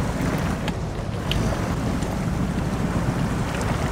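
Optimus Prime truck in SnowRunner, stuck and digging in, its engine straining with a steady, loud broadband rumble that holds throughout without pause.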